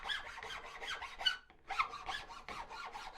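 Sandpaper rasps back and forth over a carved twisty wooden spoon in quick rhythmic strokes, close and fairly quiet, with a brief pause in the middle.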